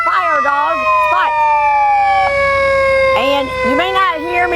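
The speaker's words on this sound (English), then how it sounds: "you may not hear me above the sirens" Fire truck sirens wail at a homecoming parade, loud and close, with rising and falling tones overlapping and a sustained steady tone running underneath, while a voice talks over them.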